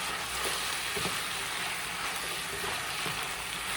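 Spinach sizzles and fries steadily in a frying pan while a wooden spoon stirs it, with a few soft scraping knocks against the pan under the constant hiss.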